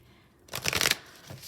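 A deck of tarot cards is shuffled in one quick, papery riffle lasting under a second, close and fairly loud, followed by a faint flick.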